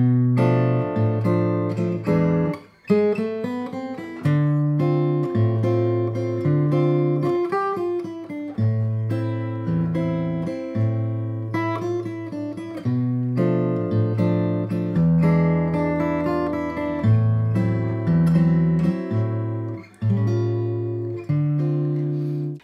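A guitar plays a Latin jazz chord progression, with clear plucked chords and a melodic line moving in a steady rhythm, heard close and loud, alone without talking.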